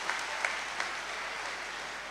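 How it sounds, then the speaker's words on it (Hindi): Applause from an audience welcoming a poet at a Hindi kavi sammelan, a steady, fairly faint wash of clapping with a few sharper claps standing out, no talking. "तालियों से आप उनका स्वागत करें।"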